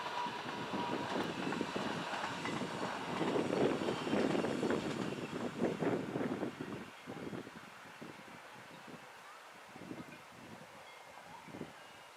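An RhB ABe 4/16 Allegra electric train passes, a rushing rumble that swells and then fades to scattered clacks and rattles as it moves away, with no one speaking.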